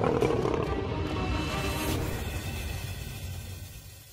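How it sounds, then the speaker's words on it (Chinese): A lion roars during a buffalo hunt on the African savanna, a deep, loud, rumbling roar that fills the clip and slowly fades toward the end, with no voices. "狮子王出现了啊，"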